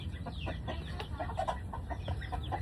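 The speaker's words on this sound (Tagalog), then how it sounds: "Ito gagong manok" A chicken clucks in a series of short, irregular calls, close by and moderately loud over steady outdoor background noise.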